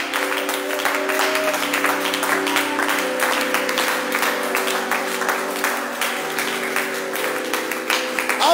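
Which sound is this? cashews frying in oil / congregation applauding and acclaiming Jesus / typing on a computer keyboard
congregation applauding and acclaiming Jesus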